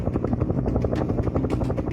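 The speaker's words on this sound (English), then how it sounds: "We had one incident where a helicopter flew low" A helicopter flies low overhead, its rotor pounding out a fast, loud, steady chop that fills the whole stretch with no talking.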